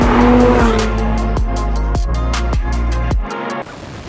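A Lotus Emira First Edition V6 manual sports car accelerates hard, loud and close: the engine note climbs through repeated rising sweeps, each gear change marked by a brief break, before the roar drops away near the end.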